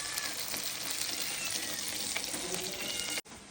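Beef tripe (botti) frying in a pan gives a close, continuous crackling sizzle that holds steady, then cuts out for a moment near the end before resuming more quietly.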